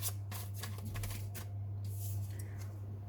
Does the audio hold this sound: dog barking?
no